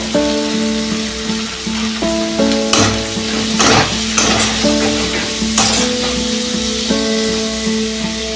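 Chopped tomato with salt fries loudly in a pan for a chicken curry, a dense continuous sizzle broken by several sharp bursts of crackling as it is stirred, with no talking.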